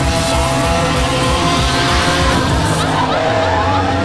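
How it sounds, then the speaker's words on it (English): A car drifts in Need for Speed Hot Pursuit, its engine roaring loudly with tires squealing and skidding, while a police siren wails faintly and racing music plays underneath. "let's try this drifting thing one more time"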